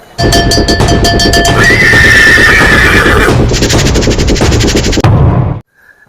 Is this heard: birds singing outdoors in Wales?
no